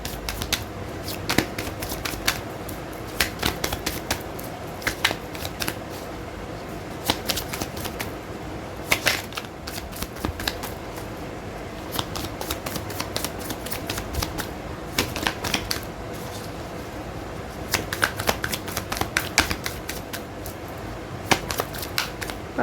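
Tarot cards shuffled by hand during a card reading, crisp riffling bursts in quick clusters with short pauses between, close and fairly quiet, repeating throughout with no talking.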